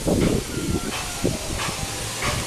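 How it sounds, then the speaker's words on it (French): Theme park train pulling into the station at Parc Astérix, a soft continuous hiss and rumble with faint mechanical clunks and rolling noise, steady and moderately distant. "Voilà Goudu avec un train qui arrive en gare."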